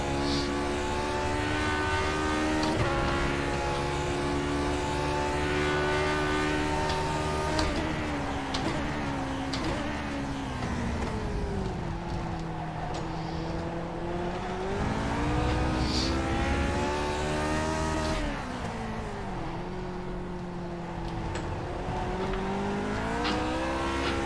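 A Lotus 49 race car in iRacing screams out of a corner, its engine note climbing steadily through the gears with repeated rising pitch sweeps, loud and close, with no talk over it.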